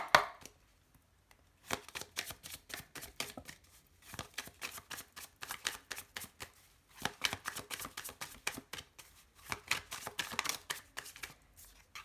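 Tarot cards are shuffled by hand in quick irregular bursts of soft papery riffles and flicks, close and fairly quiet, with short pauses between runs.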